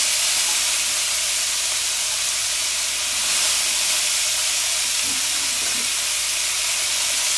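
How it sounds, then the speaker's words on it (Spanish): Meat frying with vegetables and thin strips of ginger and scallion in a pan, giving a steady broadband sizzle and hiss that runs continuously and evenly throughout, close and moderately loud, with no talk. "para que se vaya friendo junto con las verduras y también el sion jengibre así en tiritas finas"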